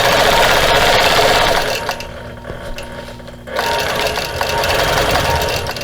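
A sewing machine quilts stitches across a cactus basket wall hanging, running in steady loud mechanical bursts with a brief slowdown in the middle before stitching resumes.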